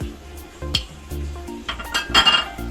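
A spoon clinks against a cooking pan while sendhav rock salt is added, a few light metallic taps and scrapes close by, with a brief clatter of utensils toward the end.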